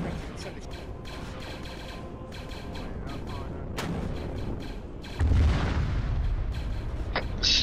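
Missiles striking a gunship in a video game, a heavy close boom that swells and holds as a loud rumble after a stretch of steady battle noise and distant artillery-like thuds.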